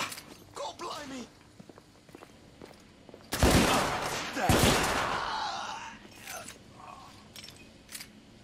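Gunfire erupts in The Order 1886, with loud close bursts of shots and rapid fire clustered mid-clip, while voices shout in the background before and after.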